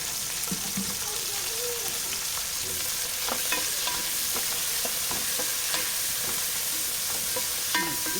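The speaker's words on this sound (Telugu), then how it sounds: "ఇప్పుడు వేగనిచ్చేద్దాం." Chopped tomato fries in hot oil in a pan for chicken dum biryani, a continuous dense sizzle with faint scraping stirs and a few soft knocks throughout.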